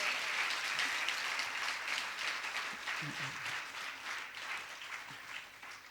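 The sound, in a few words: applause from a religious discourse audience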